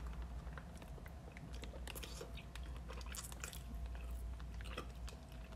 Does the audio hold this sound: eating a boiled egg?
yes